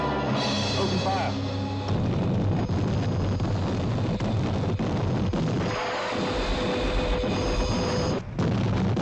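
Film combat fills the track with sustained, heavy gunfire and booming explosions, dense and loud from start to finish, with a short dip just before the end.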